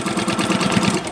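Juki sewing machine stitching a quilt block, a fast rhythmic mechanical whir and chatter of the needle running steadily at close range, loud and alone with no talking.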